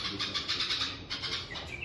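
A young bird fallen from its nest chirps in rapid, repeated high calls that stay fairly close and steady throughout, with no talking.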